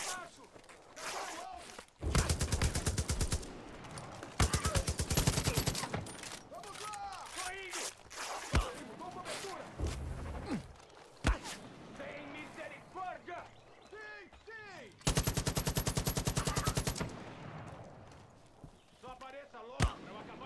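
Gunfire in the video game Far Cry 5 during a boss fight, with loud bursts of rapid automatic fire and single shots recurring among in-game clatter and effects.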